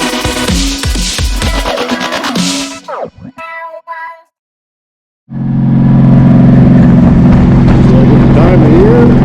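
A 1999 Honda Valkyrie Interstate motorcycle engine rumbles loudly at first, fades into a few broken sounds and a short silence, then returns as a steady, close, sustained drone.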